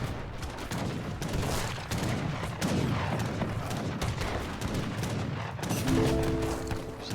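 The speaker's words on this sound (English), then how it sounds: "Should be able to get some nice volleys here with these cannons." Cannons fire in rapid overlapping volleys in a real-time strategy game, a dense barrage of booms and crackling blasts continuing throughout.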